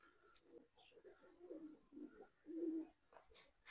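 Low, throaty coos of a racing pigeon in Punjab repeating in soft rolling phrases, fairly close, with faint chirps and background rustle around them.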